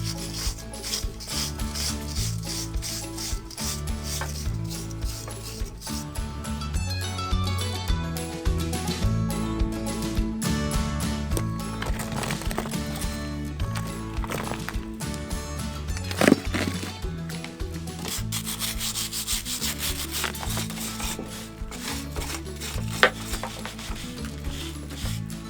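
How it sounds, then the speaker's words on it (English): A metal wire brush scrubs an old granite ruin wall, making close, rough, rasping strokes that repeat in an uneven rhythm, with a few sharper scrapes along the way and no voices. "the magnificent tool, the metal brush"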